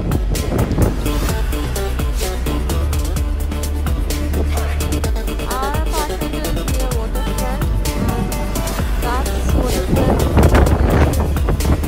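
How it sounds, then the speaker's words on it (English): Strong wind gusting across a New York City waterfront during a heavy winter snowstorm, a steady loud roar buffeting the microphone throughout. "It's so windy out here and it's so cold,"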